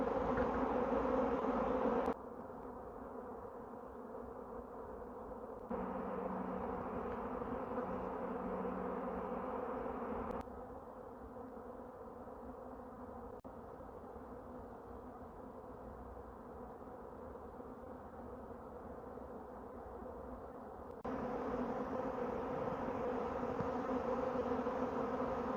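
A honeybee swarm buzzes continuously near a tree, a dense steady drone from many bees with slight shifts in loudness as the swarm moves about, close and sustained with no voices.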